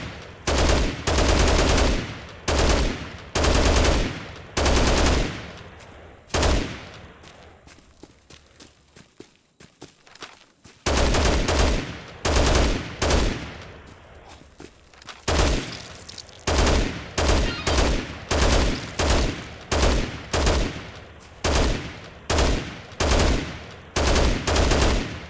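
Heavy machine gun fire in Dead Rising, loud close bursts repeating in a steady rhythm, broken by a quieter lull in the middle before the rapid bursts resume.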